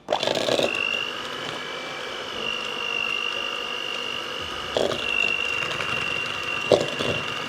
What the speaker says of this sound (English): And beat them for 5 minutes until they are pale and fluffy.